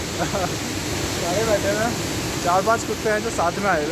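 A large waterfall on the rainy Kheerganga trek roars as a steady, loud wash of broadband noise, while people talk over it throughout.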